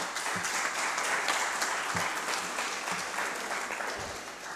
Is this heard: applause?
yes